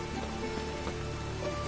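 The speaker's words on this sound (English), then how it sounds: "It's raining again." Rain falls in The Witcher 3: Wild Hunt, a soft, steady patter of drops on surfaces that stays even and low throughout, with no voices.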